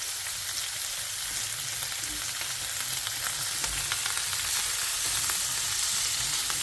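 Leaves fry in a pan for an English breakfast, giving a dense, steady sizzle with crackling pops throughout, close and even in level, with no voices.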